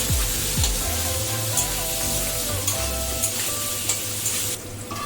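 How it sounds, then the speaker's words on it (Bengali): Potato pieces with salt and turmeric frying in oil until reddish, a steady close sizzle throughout, with a few stirring knocks and a faint hum underneath. "দিয়ে আলুটা কিন্তু একটু লাল লাল করে ভেজে নেব"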